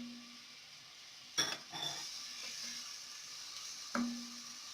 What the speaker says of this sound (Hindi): तेल गरम हो गया है, इसमें मैं डाल रही हूँ प्याज